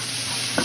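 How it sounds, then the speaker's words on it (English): Onions stir-frying in a hot pan for a green bean and potato stir-fry, a steady close sizzle with a brief stirring scrape near the end. "Hear that sizzle. That sizzle's good."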